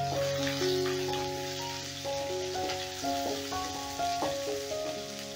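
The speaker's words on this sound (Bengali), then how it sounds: "পেঁয়াজটাও আমি হালকা করে ভেজে নেব, বেশি লাল করব না" Two medium chopped onions sizzle in hot oil during the making of a Bengali lau diye musur dal, a steady crackling fry throughout with no talking.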